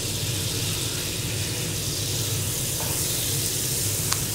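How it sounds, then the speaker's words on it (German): Butter melting and foaming in a frying pan on the stove while an omelette with oyster mushrooms is made, giving a steady even hiss and sizzle with no talk. "jetzt geben wir die Butter rein"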